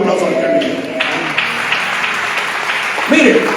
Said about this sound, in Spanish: Den un aplauso al que vive.